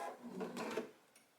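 Sewing machine stitching a dress dart from the wide waist end, a soft mechanical whir in a few short bursts, fairly quiet and close, with no talking.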